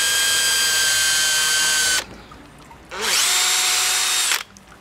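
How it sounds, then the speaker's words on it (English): A power drill with a 3mm bit whines in two loud bursts with a short pause between, boring a pilot hole in bamboo, the motor pitch steady and close. "Using our 3mm drill bit."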